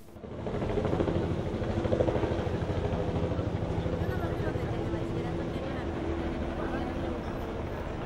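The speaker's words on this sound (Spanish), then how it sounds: "Un helicóptero de la Secretaría de Seguridad Pública sobrevolaba la zona en el centro de Morelia." A police helicopter flies over a city centre, its steady rotor thrum and engine drone filling the air continuously at moderate distance.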